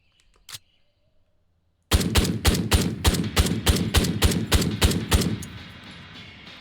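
Video game gunfire from SR-25 and MCX Spear rifles at long range: one isolated loud shot, a pause, then a rapid run of about a dozen sharp, evenly spaced reports that fades into a ringing tail.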